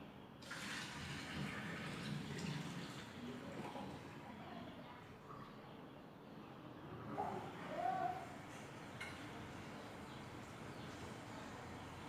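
Water sloshes and pours steadily as hot water is tipped out of a cooking pot and cool water is added while making Thai sweet neem chili dip, with a faint clatter near the end.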